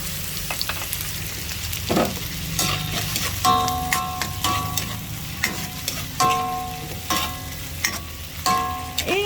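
Hot dogs sizzle while being fried in a pan for soup, a steady close crackle of frying punctuated by clinking metallic stirring and scraping strikes from a utensil, with no speech.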